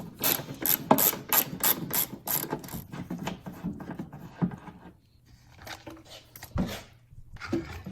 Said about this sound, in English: Use a little ratchet.